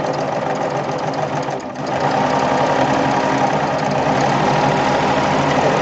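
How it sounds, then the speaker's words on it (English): Serger sewing machine stitching quilting fabric while its blade trims a sliver off the seam edge, a steady loud mechanical whir with fast even rhythm, briefly dipping before resuming full speed. "I need to skim just a little bit of fabric off as I stitch"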